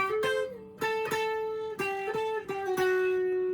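A short guitar lick of plucked and hammered notes, a handful of bright attacks ringing over each other, close and clear with no talking.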